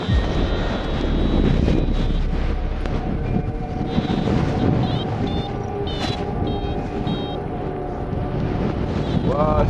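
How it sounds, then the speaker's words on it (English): Strong wind roaring over a paraglider high above the Alps, a loud continuous buffeting rush with whistling tones throughout, while a voice speaks over it. "Wow, it's super windy."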